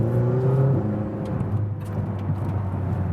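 A McLaren GT sports car cruises on the Autobahn, its engine a steady, loud hum with a brief higher whine early on, under a constant wash of road and wind noise.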